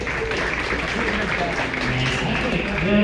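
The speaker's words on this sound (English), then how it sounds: "How about a nice round of applause for Claire?" Round of applause from a county fair crowd at a 4-H/FFA youth show, dense steady clapping that fills the space, with faint voices and chatter mixed underneath.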